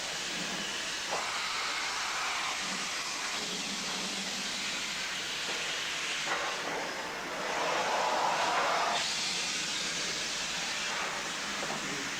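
A steam locomotive hisses inside the loco shed at Malakwal, Pakistan, giving a steady broad rushing noise that rises into a louder burst partway through, with a faint railway clatter underneath.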